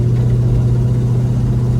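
A 1971 Oldsmobile Cutlass muscle car gets light throttle, its engine giving a loud, steady low rumble close by with no voices over it.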